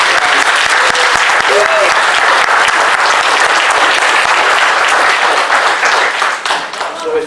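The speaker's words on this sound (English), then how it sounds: "give them a big round of applause" Sustained applause from a large audience at a Transformers convention fills the hall, dense and loud throughout, tapering slightly near the end, with a faint voice or two heard briefly beneath it.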